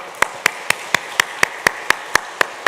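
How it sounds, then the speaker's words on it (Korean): Slow, even rhythmic clapping at a Sunday church service, about a dozen crisp, separate claps spaced evenly, close and fairly loud over quiet room tone. "여러분 뜨거운 축복과 격려의 박수 해주시기 바랍니다"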